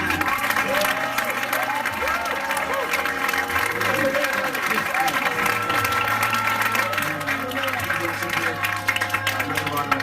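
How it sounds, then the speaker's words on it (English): An audience at the Spice of Life venue in Soho applauds the sound engineer, a steady wash of clapping mixed with voices and a background musical hum throughout. "Please give him a hand"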